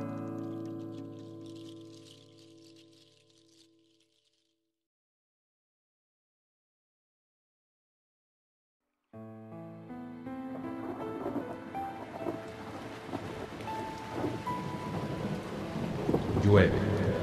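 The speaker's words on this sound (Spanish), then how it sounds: "Gotas de lluvia, amargas como hiel, se abaten impunes sobre los campos yermos. El refulgir del rayo rasga las tinieblas." A rainstorm with thunder: a fading tonal passage gives way to several seconds of silence, then a steady hiss of falling rain builds with a low rumble beneath it, growing louder toward the end.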